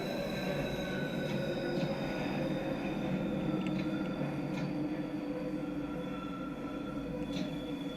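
London Underground Bakerloo Line train in Train Sim World 2 running steadily underground, a continuous loud rumble with faint squeals and clicks throughout, no talking.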